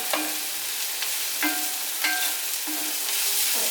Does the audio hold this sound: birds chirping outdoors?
no